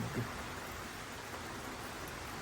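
Steady, dense hiss of heavy typhoon rain pouring down on a farm, a constant wash of noise with no breaks.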